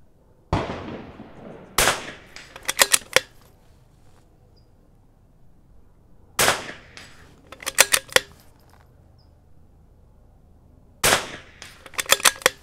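Sharp .22 rimfire rifle shots at an outdoor range, each a single crack followed by a quick cluster of clicks from the action, repeating three times at even intervals with quiet between.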